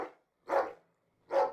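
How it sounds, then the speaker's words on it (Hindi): Reversed recording of a dog barking, three swelling, backward-sounding bark shapes spaced about evenly apart with silence between, clear and up close. "यह एक कुत्ते के भौंकने की आवाज को उल्टा चलाया गया है।"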